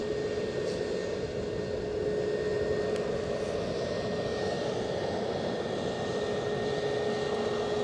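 An Airbus A321 airliner departing Edinburgh Airport for Lanzarote gives a steady, loud engine roar with broadband rush and a faint high whine, holding constant throughout with no voices.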